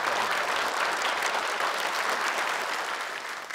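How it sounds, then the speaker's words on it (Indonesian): Studio audience applause on a televised Quran memorisation show in Indonesia, with steady, dense clapping that fades slightly at the end. "Boleh tepukan untuk Ahmad dan Ustaz Afif."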